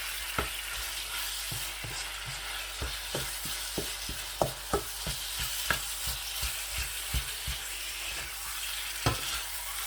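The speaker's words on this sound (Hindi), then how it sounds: "कीमा ऐड करके इसको अच्छी तरह से मैं मिक्स भी करूँगा साथ इस तरीके से" Minced keema stirred and fried in a pan with ghee and a little oil, a steady sizzle broken by repeated scraping clacks of the spoon, close and fairly loud with no one talking.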